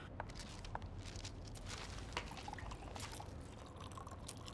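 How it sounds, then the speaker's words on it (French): A glass of water being poured indoors, a faint, steady trickle of liquid lasting a few seconds with light room noise and no speech. "donne-moi un verre d'eau, Adriana."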